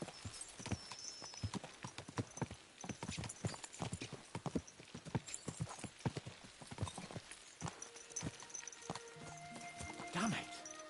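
Horses galloping in Kingdom Come: Deliverance 2, a steady rapid clip-clop of hooves close by for the whole stretch, with occasional whinnies and someone talking over the hoofbeats.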